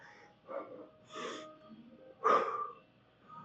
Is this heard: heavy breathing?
yes